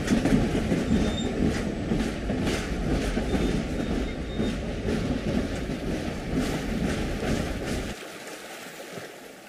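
An Algoma Central Railway train rumbles across a large river bridge with rhythmic clickety-clack of wheels and steady rolling noise, fairly close, fading abruptly near the end.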